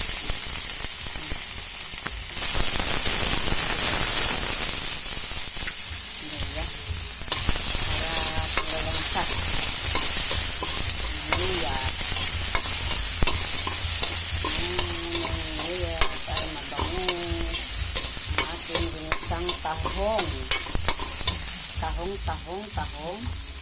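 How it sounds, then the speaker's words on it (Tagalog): Garlic, onion and ginger sautéing in a kawali, a loud close sizzle with repeated scraping and clacking stir strokes throughout, the frying intensifying after the first couple of seconds as ingredients go in. "Lagyan na natin ang bawang. Sunod natin sibuyas."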